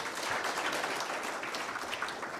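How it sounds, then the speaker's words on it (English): A conference audience at an East African anti-corruption association meeting gives a short, fairly faint burst of applause, dense and even clapping throughout. "Can you give Monira another round of applause?"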